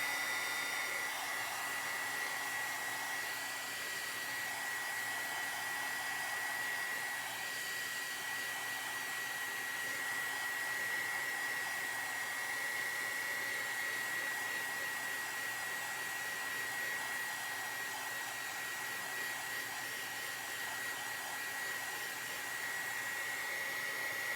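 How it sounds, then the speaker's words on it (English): Hair dryer blowing steadily on a freshly painted Easter craft made from dollar store items, a continuous close whooshing drone with a high whine and no break for the whole stretch. "I'll dry him real quick."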